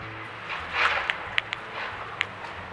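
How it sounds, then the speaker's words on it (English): Blue jays in snow make a few sharp, dry beak snaps, about four quick clicks spaced irregularly over a soft outdoor background, with a faint rustle of wings or movement. "Did you hear those beak snaps?"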